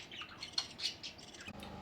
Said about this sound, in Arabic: مثل ما طلبتوا مني صورت لكم اياها طيور الحب